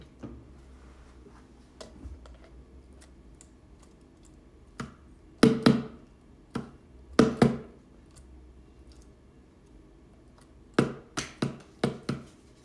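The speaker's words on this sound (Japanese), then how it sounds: "拍手してんの。" A few sharp hand claps during a SHOWROOM live stream, heard alone in a quiet room. Isolated claps are followed by short clustered bursts, close and crisp.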